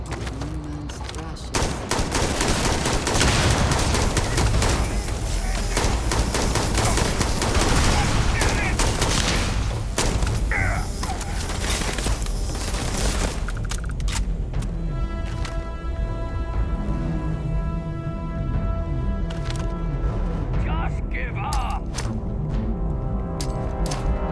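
Rapid gunfire and blasts fill a Starfield firefight, grenade explosions mixed with dense, continuous bursts of shots that stay loud and relentless throughout, later joined by ringing tonal effects.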